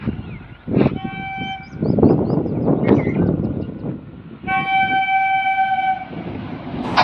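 A train rolls past a closed railway crossing, its horn sounding in repeated loud tonal blasts over the rumble of wheels and nearby crowd noise, close to the listener.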